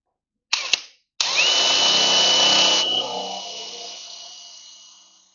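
During trailer building, a power drill bores with a larger bit at slower speed. Two brief trigger bursts come first, then a loud, whining spin holds for a couple of seconds before slowly winding down and fading out. Nobody speaks.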